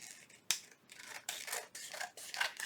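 Scissors trim a paper index card up close: a sharp snip, then several crisp, rasping cutting strokes in an uneven rhythm, with no speech.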